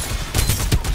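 Rapid automatic gunfire from the shooter game Farlight 84 fires in dense, loud bursts of shots that run together across the whole moment.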